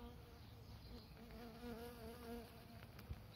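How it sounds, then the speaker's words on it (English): Honey bees buzz inside a mating nuc hive as a faint, steady, close-up hum with slight wavering pitch, a dense swarm sound with no voices. "there sure is a lot of bees in here now"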